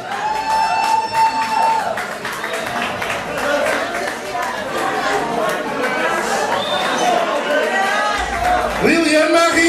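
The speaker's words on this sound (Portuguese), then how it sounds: "Uma salva de palmas para a Direito Leal." A crowd celebrating Liliane's birthday applauds and cheers with excited chatter, a loud, dense mix of clapping and voices that continues steadily throughout.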